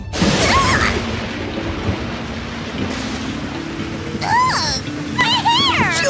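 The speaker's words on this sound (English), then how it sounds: "Looks like a storm's brewing. And it looks like a nasty one." A thunderstorm with steady rain hiss and low rumbling thunder throughout, with voices briefly talking over it toward the end.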